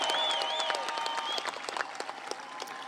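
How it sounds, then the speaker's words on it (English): A high school graduation audience breaks into applause in a hall, a dense wash of clapping that starts loud and thins toward scattered claps, with a faint tone sounding underneath at first. "let's give them a round of applause"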